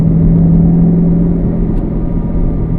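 Chevy Camaro SS 1LE's V8 accelerating on winding foothill roads, heard from inside as a steady, loud low rumble and whir that holds throughout with no talk.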